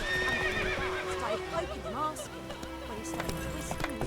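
Roach, Geralt's horse in the video game The Witcher 3, gives a close, loud whinny amid clip-clopping hooves, while a voice speaks over the scene.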